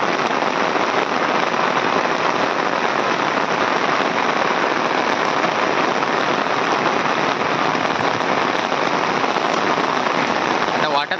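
Heavy monsoon rain pours down in rural Konkan, a dense, loud, unbroken roar of drops drumming on surfaces for the whole stretch, close and steady, with no talking.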